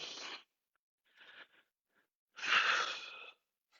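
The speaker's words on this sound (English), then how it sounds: "Nice deep breathing." Slow, audible breaths during a dumbbell workout's cool-down in downward dog, with two longer, airy exhales separated by a shorter, quieter one and near-silent gaps between, close to the microphone.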